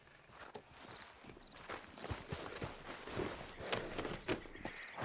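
Horse hooves clip-clopping in Red Dead Redemption 2, a soft, steady rhythm of hoof falls, fairly faint and low in the mix.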